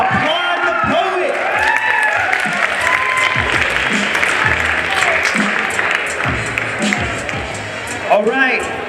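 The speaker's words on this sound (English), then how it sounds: "Applaud the poet." Audience at a ninth-grade school poetry slam claps and cheers loudly and steadily for a poet, with scattered whoops, and an announcer's voice speaks over the applause.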